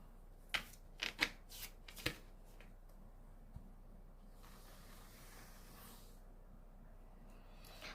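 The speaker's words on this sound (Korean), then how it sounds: "추가 카드 뽑아볼게요" Tarot cards shuffled and drawn during a weekly fortune reading: a quick run of four or five crisp, close riffling snaps in the first two seconds, then a soft papery slide over quiet room hiss.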